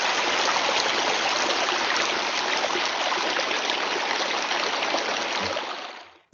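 A flowing stream in a countryside nature soundscape gives a steady, dense rush of water that holds constant and close for several seconds, then cuts off abruptly at the end.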